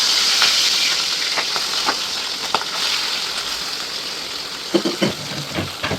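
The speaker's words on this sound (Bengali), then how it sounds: "তেল গরম হয়ে গেছে, এখন কড়াইতে মাছ দেবো।" Fish frying in hot mustard oil in a wok, a loud, steady hiss of spitting oil throughout, with a few sharper crackles and pops near the end.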